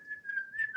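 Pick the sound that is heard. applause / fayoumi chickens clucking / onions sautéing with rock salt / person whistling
person whistling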